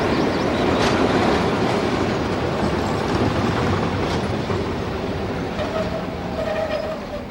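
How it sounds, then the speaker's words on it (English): A British Rail diesel multiple unit train runs steadily, with a continuous loud rumble and rhythmic clickety-clack of wheels on track, heard from on board for the whole stretch. "Ah, the familiar cry of the lesser spotted DMU."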